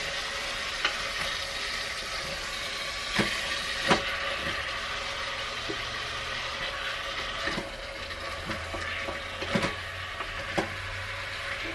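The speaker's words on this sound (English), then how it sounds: "You can hear all that sizzling." Meat frying in a crowded pan, a steady dense sizzle close up throughout, with occasional clicks and scrapes of stirring.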